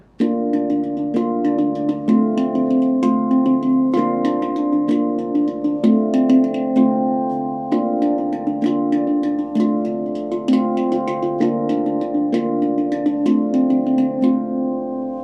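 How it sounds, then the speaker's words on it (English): Chords are played on a D Kurd handpan in a steady groove, with rapid taps over ringing metallic tones that blend and sustain throughout. "So these chords are ones that work on my D Kurd handpan."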